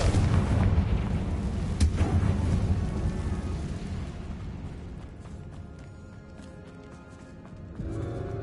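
A Confringo blasting spell explosion in Hogwarts Legacy, a loud booming burst near the start that rumbles and slowly fades, with a sharp crack under two seconds in and a quieter swell near the end.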